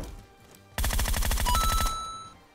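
Gunfire in the battle royale game PUBG: one loud, rapid automatic burst of about a second, its shots packed tightly together, then a fading tail and no voices.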